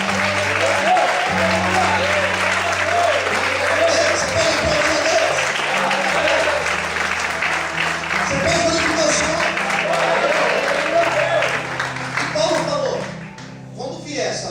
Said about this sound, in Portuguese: Você pode aplaudir e exaltar o Senhor